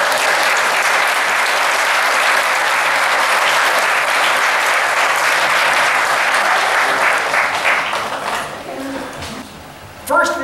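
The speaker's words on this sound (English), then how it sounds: "So give yourself a round of applause." A large audience applauds at an annual amateur art exhibition awards event, broad steady clapping that carries on for several seconds before thinning out, with a voice briefly heard at the close.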